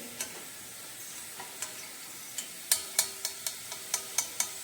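Garlic frying in oil on very low gas until reddish, with a soft sizzle and a run of light, evenly spaced ticks and clinks of a utensil against the pan, close and fairly quiet.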